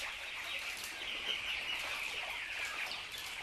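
Chickens in a large coop holding hundreds of birds, set above a fish pond, give a continuous mass of overlapping clucks and calls at moderate distance, with no talking.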